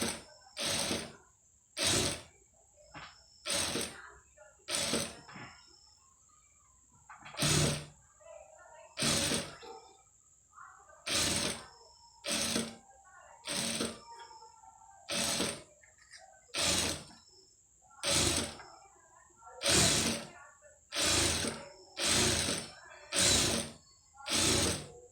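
A sewing machine stitches invisible thread piping along a fabric edge in repeated short, loud mechanical bursts with brief pauses between them, running steadily for a long stretch.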